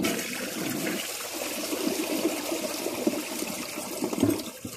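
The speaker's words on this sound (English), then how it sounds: "let's give it another flush." A Project Source Pro toilet flushes with a steady, loud rush of water that swirls and gurgles for several seconds, heard up close with no talking.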